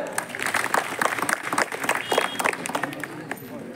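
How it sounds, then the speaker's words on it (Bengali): Students and an audience clap in a dense, lively burst at a school's higher secondary results announcement, with a voice talking over the applause. "জোরে একটা হাততালি"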